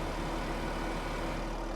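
Tractor engine in Farming Simulator 25, a steady low droning rumble that holds constant over a short stretch with no talking.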